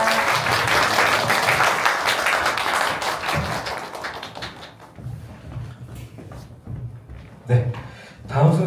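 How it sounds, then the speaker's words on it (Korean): An audience at a literary evening gala claps loudly in a dense burst of applause that thins out into scattered claps, with some voices talking near the end. "여러분 세 분께 큰 박수 부탁드립니다"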